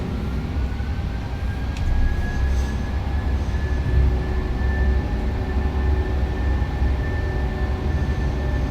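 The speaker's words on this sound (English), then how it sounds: "Stabilized. Set takeoff thrust." Boeing 737-800 jet engines hold a steady, loud, broadband roar at takeoff thrust, with a sustained whine line running through the whole stretch and no talk over it.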